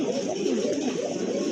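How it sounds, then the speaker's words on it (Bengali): White pigeons cooing in a farm loft, a steady low rolling murmur from several birds close by, continuous throughout with no clear breaks. "মাশাআল্লাহ, আরেক জোড়া কবুতর,"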